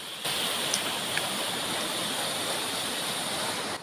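River running after a flash flood, where a collapsed bridge forces people and motorbikes to cross the water: a steady, loud broadband rush of water that holds constant throughout, with no voices.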